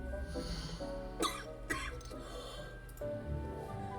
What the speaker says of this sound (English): I want to apologize for that coughing fit I just had.